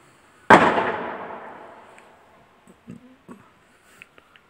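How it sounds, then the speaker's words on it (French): A single sharp firecracker bang on New Year's with a long decaying echo, followed by a few faint distant pops. "Les gosses ils sont en train de jouer avec des pétards."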